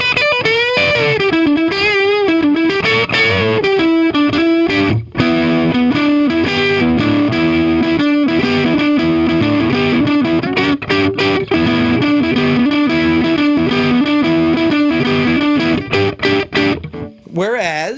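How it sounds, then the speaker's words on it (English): A budget Telecaster electric guitar with both pickups selected plays a continuous distorted riff of sustained chords and notes, loud and upfront, with brief gaps near the end. "The sound of the two together on the Tele, the two pickups."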